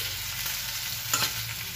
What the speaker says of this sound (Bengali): আর এটা হচ্ছে ভাজছি উচ্ছে।